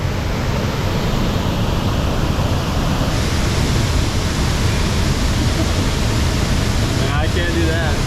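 Close, steady roar of a waterfall in Thailand, broadband rushing water filling the whole stretch, with a brief voice rising near the end.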